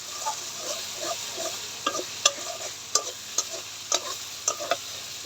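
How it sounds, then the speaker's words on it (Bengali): Masala with green chillies stir-fried in a pan for a fish curry, with a bright steady sizzle and rhythmic spatula scrapes and taps against the pan, close up and with no voices. "ভালো করে মশলাটা কষাই নিব।"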